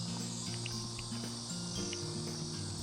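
Cicadas buzz in a steady, dense high drone beside a riverside walking path near apartments in Korea in late July, with low traffic-like hum underneath and no talking.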